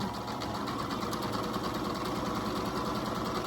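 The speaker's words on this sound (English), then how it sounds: "I'm just gonna sew all the way down" Sewing machine running a straight seam down an envelope pillow cover, a steady close mechanical whir with a fast regular needle chatter throughout.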